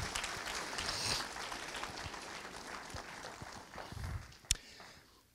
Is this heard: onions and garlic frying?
no